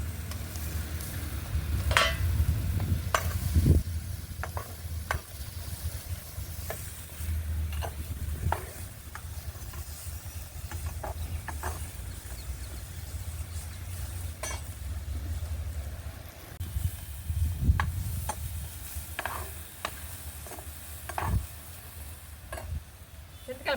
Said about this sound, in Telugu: బుడంకాయలు కూడా బాగా వేపుకోవాలి.